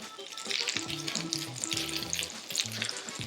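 Mushrooms fry in fat in a pan, giving a steady close sizzle and crackle that swells and dips while a pan or utensil knocks and scrapes briefly.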